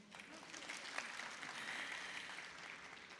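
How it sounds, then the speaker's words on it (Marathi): Faint clapping from a school audience, a soft continuous patter of many hands lasting a few seconds, heard from a distance. "टाळे वाजव ना."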